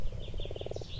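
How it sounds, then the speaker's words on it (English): Frogs calling from a meadow beside a lake, a rapid train of pulsed croaks building into a steady rhythmic run, moderately near over a low background hum, with a higher trilling chorus faintly behind. "the frogs are calling to one another"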